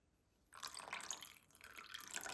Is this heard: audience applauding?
no